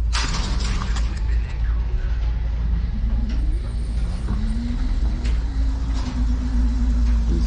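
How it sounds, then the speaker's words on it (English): Dual electric motors on a custom Super 73 e-bike strain while slowly creeping up a steep hill, a steady low hum with a rising whine that holds throughout, close and continuous alongside rumbling road and wind noise. "You can actually hear the motors working so nicely together and just pushing up me this hill so easy."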